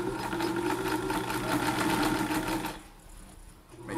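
A Kenmore sewing machine fitted with a Q-Foot presser foot stitches a plain zigzag, its fast, even mechanical whir close and loud before stopping near the end, leaving a quiet room.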